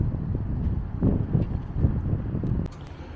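Wind blustering outdoors near a police station, gusty rumbling buffeting a microphone in uneven bursts, fairly loud and close with no clear talk.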